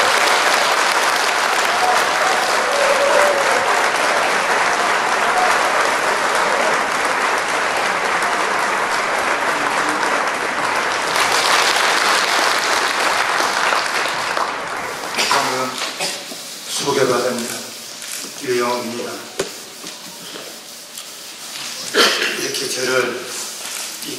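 An audience at a workshop on Agent Orange and veterans' policy applauds in welcome. Loud, dense clapping fills the hall for about fifteen seconds and then thins out as a speaker begins talking over it.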